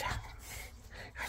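A small dog gives soft, faint whimpering and yipping noises up close, with some background hiss and no clear talk.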